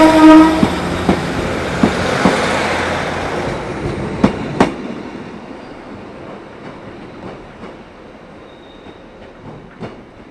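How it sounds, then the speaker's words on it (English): A Network Rail HST measurement train led by power car 43277 approaches and passes loudly through Carlisle with a rumbling roar and a blast of its horn, then fades away into rhythmic wheel clatter. "the Network Rail new measurement train turned up, with HST power car 43277 up front and 43062 John Armit at the other end."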